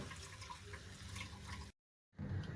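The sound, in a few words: water poured onto rice in a cooking pot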